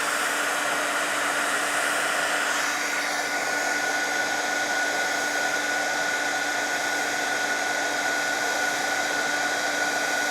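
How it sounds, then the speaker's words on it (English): A heat embossing tool blows steadily close by to melt embossing powder for a card project, a continuous loud whirring hiss with no speech. "so this is my heat tool"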